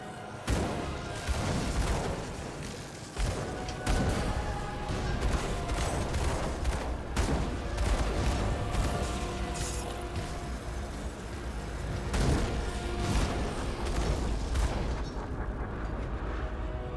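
Grenade explosions in the video game Grim Dawn, a rapid barrage of heavy booming blasts repeating throughout, loud and dense with rumbling tails and brief gaps between clusters.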